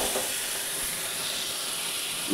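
Water hits a hot frying pan of nearly fried moringa drumsticks, giving a loud, steady steam hiss and sizzle that lasts throughout, close up and with no talking.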